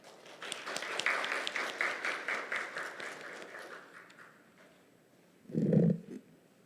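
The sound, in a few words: audience applause welcoming a speaker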